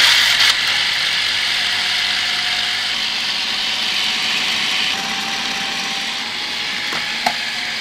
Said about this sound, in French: Je vais commencer par mixer ça et puis je rajouterai mes épinards au fur et à mesure.